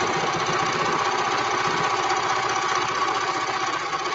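A sewing machine runs a back stitch in a steady, loud, continuous mechanical whir with a fast, even pulsing rhythm and no pause.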